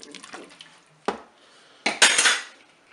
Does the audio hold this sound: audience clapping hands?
no